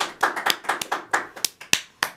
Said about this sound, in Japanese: じゃあ拍手でなんか来てくださいということでよろしくお願いします